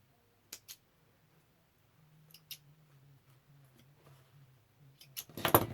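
Scissors snip loose threads from a stitched seam: a few sharp, isolated clicks with quiet gaps, faint handling rustle beneath, ending in a louder burst of snipping and rubbing.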